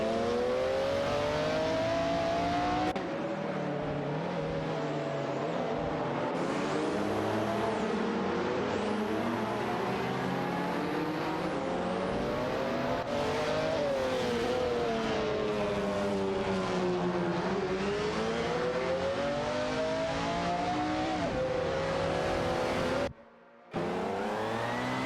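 Race car engines in an AI-driven racing video game, a continuous high-pitched whine with rising and falling revs as cars shift gears and jostle for position, loud and steady, then briefly cutting out near the end.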